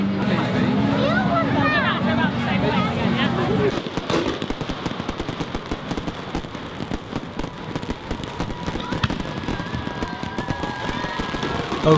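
Rapid crackling and popping fireworks bursts fill the air at a large public display, dense and continuous, with crowd chatter and voices beneath and a brief tonal whistle late on.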